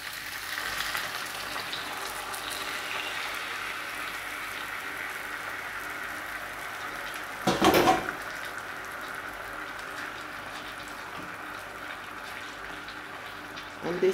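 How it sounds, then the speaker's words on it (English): Water is poured into a pot of Jamaican-style roasting chicken, producing a steady sizzle and fry hiss with a brief louder splash and gush partway through. "And I am gonna add some water to it."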